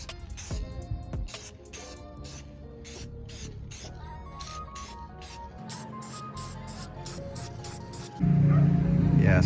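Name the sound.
spraying Rust-Oleum 2X Ultra Cover matte clear coat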